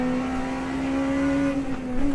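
A BMW race car engine in a sim racing game holds a steady, sustained tonal drone at near-constant pitch, rising slightly toward the end, with no talking.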